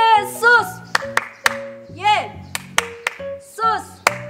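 At a Sunday school, children's sharp hand claps land in short groups between bursts of lively chanted voices, the claps crisp and close.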